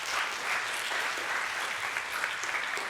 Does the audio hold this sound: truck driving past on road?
no